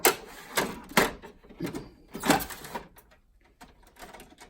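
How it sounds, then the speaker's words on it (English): A printer drawing in a single sheet of paper gives short bursts of mechanical whirring and clicking, close and moderately loud, with brief quiet gaps between feeds. "Now we're going to put this piece of paper into the printer again."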